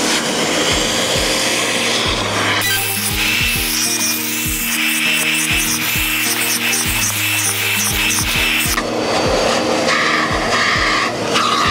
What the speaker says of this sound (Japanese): こういうリンサーでもうちょっと綺麗にしていきます